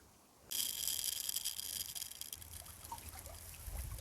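Flax seeds and chaff are poured by hand outdoors, a dense rattling trickle that starts suddenly, runs steadily for a few seconds, then thins out over low wind rumble.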